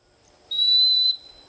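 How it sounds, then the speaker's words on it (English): A single sharp, high-pitched dog training whistle blast during a duck dog handling session, sustained for about half a second, close and clear against a quiet background. "give her a whistle blast and have her sit"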